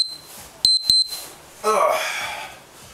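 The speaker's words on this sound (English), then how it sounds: "That's the timer." Two short, sharp high-pitched beeps from a workout interval timer ring out close by at the start of an abs session, followed by a brief burst of softer noise.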